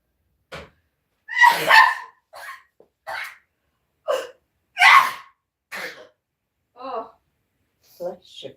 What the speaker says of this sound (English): So that I'm sneezing.